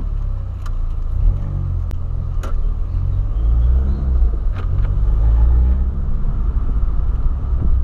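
A VW Polo's engine rumbles steadily at close range with a low, continuous drone and slight swells as it pulls away, with no voices over it.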